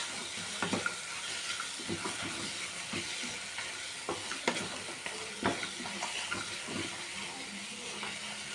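Grated raw mango pulihora mixture sizzles steadily in hot oil, with a constant hiss and occasional scraping stirs of a spoon against the pan, close and alone.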